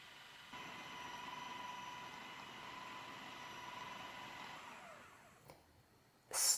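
A food processor whirs steadily as it blends light farmer's cheese until smooth, running for about five seconds before winding down. A short clack follows, then a brief loud burst near the end.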